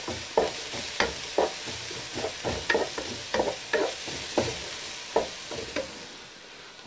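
Onion softening in oil in a pan for meat shawarma, a close, even sizzle punctuated by regular rhythmic spoon scrapes roughly every half second, with no one speaking.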